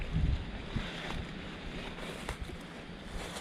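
Steady wind blows across the microphone with a rumbling buffet, strongest at the start, a continuous low roar outdoors in a rural field.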